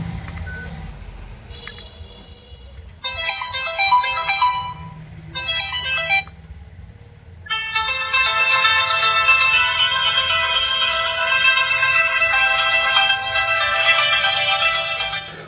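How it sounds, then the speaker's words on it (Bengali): An AMIGO ML02 keypad phone's electronic ringtone plays: two short melodic bursts, a pause, then a longer, louder looping tune, with no talking. "ফোনটির রিংটোনের যে সাউন্ড সেটা"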